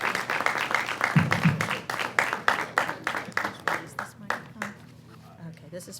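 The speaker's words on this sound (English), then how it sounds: "give a round of applause for Ms. Valderrama" Audience applause at a local officials' meeting, sparse and uneven, with distinct individual claps and a few voices over it, fading out toward the end.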